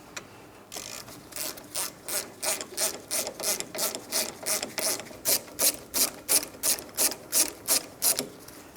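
A ratchet snugs the brake caliper pins on a Mitsubishi Outlander, a close, steady run of about fifteen evenly spaced clicking strokes with no voices over it.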